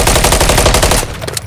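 MCW rifle gunfire in a video game, a rapid loud burst of automatic shots in steady rhythm that cuts off after about a second, leaving faint sounds.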